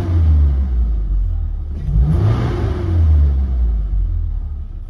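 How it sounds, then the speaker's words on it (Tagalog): A Mitsubishi Adventure with a 4G63 engine suffering low power revs as the accelerator pedal is pressed to the floor, a loud close engine rumble climbing and falling through a couple of throttle blips with no talk. "Pag-apak ng pedal sinasagad po, at ang kanyang RPM tumataas kaagad."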